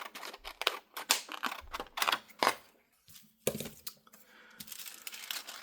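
Scissors snip through a large paper window envelope for a junk journal, a dozen or so crisp close cuts in uneven bursts with light paper crinkling between them and brief pauses.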